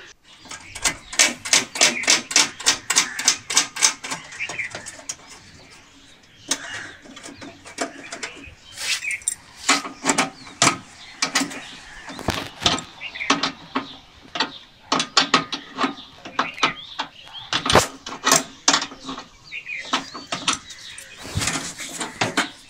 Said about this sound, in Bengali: এবার আউটডোর ইউনিটকে ব্র্যাকেটে বসিয়ে নিচ্ছি এবং নাট বোল্টগুলো বেশ সুন্দরভাবে টাইট করে নেব।